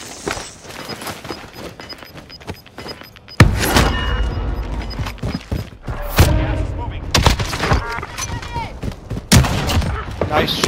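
Gunfire in the Call of Duty Warzone battle royale on the Verdansk map: loud bursts of shots and impacts erupt repeatedly after a quieter start, with rapid volleys that keep cutting in over the game's background.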